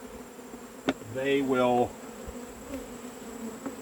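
A low, constant hum of honey bees around a hive cover as they are brushed off it, with someone briefly talking over the buzz and a few soft knocks.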